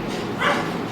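A dog barking outside a hostel, heard as a short, muffled yelp that rises briefly over a steady background hum, fairly faint and alone without talking.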